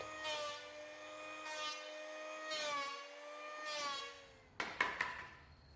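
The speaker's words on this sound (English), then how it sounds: "I needed about a 5-to-1 taper on this board. So I did that with my power plane" A power planer cuts a taper along a wooden board for a sailboat ballast keel mold, its motor whining in three or four sustained passes with harmonic tones, then a few sharp knocks at the end.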